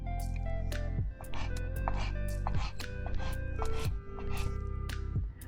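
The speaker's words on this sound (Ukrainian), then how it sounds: "А зараз нарізаємо невеличкими шматочками е, куряче філе." A knife chops through chicken fillet into small pieces on a cutting board in repeated sharp knocks, close up, over a steady low hum.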